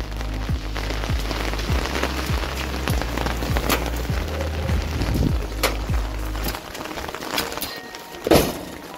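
Heavy rain drums steadily on an umbrella held outdoors during a thundery downpour in Pakistan, a dense close patter over a low rumbling hum, with a sharp louder knock near the end and no talking.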